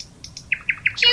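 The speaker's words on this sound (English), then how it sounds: "P for parrot." A parrot gives a quick run of about six sharp, high chirps in close succession. The calls are clear and near, with no voices over them.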